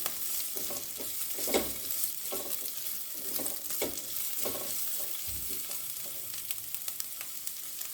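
Thin-cut carrots sizzle and stir-fry in a pan for veg spring rolls, with a steady frying hiss broken by several scraping stirs of a spatula, close and without talk.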